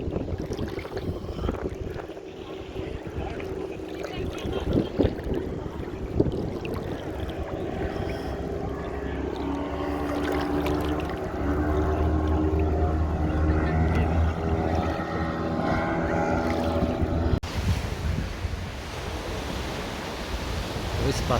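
A motorboat drones steadily on the water off Saona Island, Dominican Republic, with wind buffeting the microphone, the engine tone rising and holding before a sudden cut.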